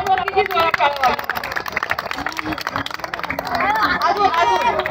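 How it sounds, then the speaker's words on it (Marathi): A live audience at a laughter and comedy stage show in Pune claps loudly, a dense burst of many hands mixed with crowd babble and voices throughout. "आता जोरात टाळ्या वाजवून दाखवा."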